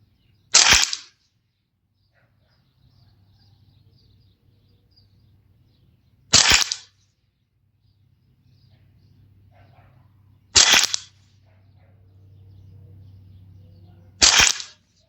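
Four sharp, loud .22 rifle shots from a Mossberg 702 and a Ruger 10/22, evenly spaced several seconds apart while shooting groups at 50 yards, with a faint low hum in between.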